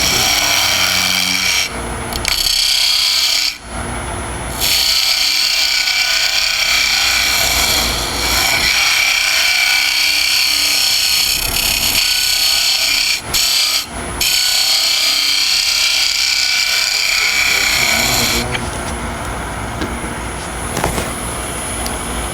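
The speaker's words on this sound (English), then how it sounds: "On a scraper, you always need to scrape downhill, level or downhill." A scraper cutting wood on a lathe while turning a lidded box, a harsh continuous rasping and scraping with short pauses between passes, close and loud, with no talk.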